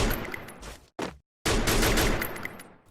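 Gunfire in the Free Fire mobile shooter game: a dense burst of shots, a brief break with one more short burst, near silence, then a sustained loud volley, with no talking over it.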